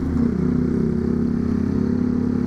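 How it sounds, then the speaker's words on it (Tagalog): A loud motorcycle engine drones steadily close by, a rough, throbbing mid-pitched rumble that holds without pause. "Ang ingay ng motor na ito."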